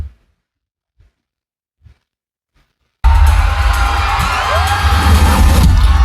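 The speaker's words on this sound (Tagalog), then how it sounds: "Sigawan na agad yung mga tao." Crowd screaming and cheering at the intro during the Aurora Music Festival, erupting suddenly after a few faint thumps and staying loud and dense to the end.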